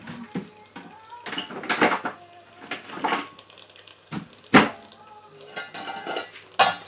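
A spoon clatters and scrapes against a metal pot as jollof rice ingredients are mixed together, in irregular bursts of clanks and stirring with quiet pauses between.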